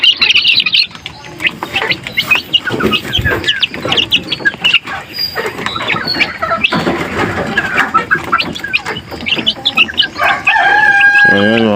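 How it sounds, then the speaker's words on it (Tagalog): Backyard chickens and chicks cluck and peck noisily while wet feeding, with a rooster crowing and a voice talking over the steady flock chatter. "tingnan nyo naman yung ating alaga ng sisiw, ang lalakas kumain"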